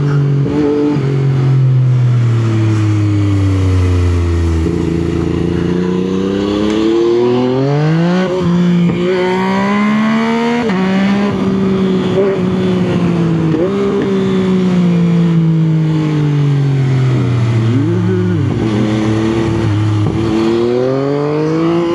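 A 2021 Yamaha MT-09 motorcycle pulls hard along an open road, its engine climbing through repeated rising revs between gear shifts, loud and close, with no talking over it.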